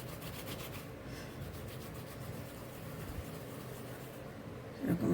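Soft, steady rubbing of cauliflower pitha dough between the palms, a continuous close dry friction sound that stays fairly quiet throughout.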